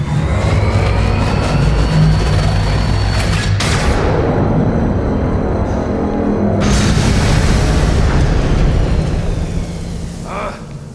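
A weapon system fires explosions in the Gotham Knights video game: a loud, sustained roar of blasts and rumbling booms, broken by a couple of sharp cutoffs and renewed bursts, with a voice briefly over it.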